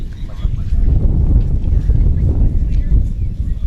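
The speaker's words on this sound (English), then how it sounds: "And the gusts are definitely coming." Gusty wind buffets the microphone at an outdoor recurve archery match in rough, low, blustery surges, loud and close, rising and falling over a few seconds.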